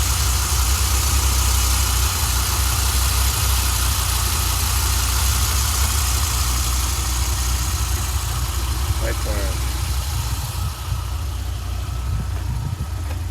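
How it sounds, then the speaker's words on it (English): A Dodge Viper engine idles steadily up close, a loud, continuous low rumble that holds even throughout, with a brief faint tick near the end. "That engine just likes to purr."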